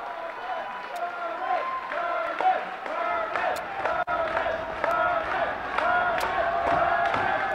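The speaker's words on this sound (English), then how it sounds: "You can hear the crowd." Crowd noise at a boys volleyball match, a steady roar of voices and shouts in a gym, with sporadic sharp claps and whoops and a commentator-like voice layered over it.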